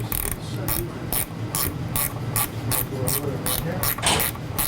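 A ratchet snugs up a 7/16 bolt on the connecting rod of a sliding glide door panel, giving a rapid, even run of loud, close metallic clicks that continues throughout.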